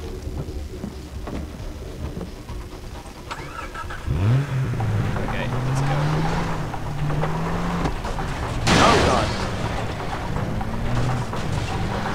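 A jeep engine in the video game Far Cry 3 starts up and drives, a mid-pitched motor that rises and falls with revving over steady background noise, along with a brief sharp burst partway through.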